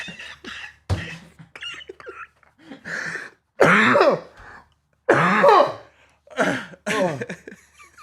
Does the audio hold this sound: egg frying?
no